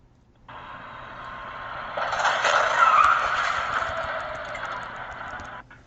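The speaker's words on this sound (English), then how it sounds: "That's the Insurance Institute for Highway Safety's front crash of a 2009 Chevrolet Malibu and 1959 Chevrolet Bel Air" Front crash test at the Insurance Institute for Highway Safety between a 2009 Chevrolet Malibu and a 1959 Chevrolet Bel Air: a loud, sustained screeching and grinding swells for several seconds, then fades and ends abruptly.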